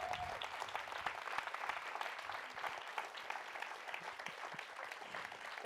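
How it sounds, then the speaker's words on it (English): A conference audience applauds the keynote speaker at Digital Pedagogy Lab 2019 with dense, steady clapping. It holds at an even level for the whole stretch, with no voices on top. "please give Robin DeRosa a round of applause."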